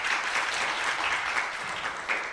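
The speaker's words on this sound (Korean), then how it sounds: "크게 박수합니다." Audience applause fills a Korean church mission school lecture hall, steady dense clapping from a crowd throughout, loud and continuous with no voices over it.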